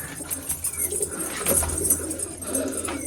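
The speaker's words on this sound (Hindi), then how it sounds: "अब आ जाते हैं जिस खुड्डे में मैंने लक्के कबूतर रखे हुए हैं" Soft, low coos from Lakka pigeons in their coop rising over a steady background hum, with faint rustling nearby; no speech.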